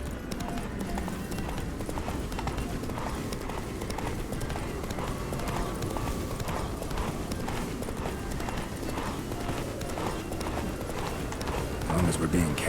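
A horse galloping in the video game The Witcher 3, a fast steady drumming of hooves under continuous loud background sound, with voices talking over it.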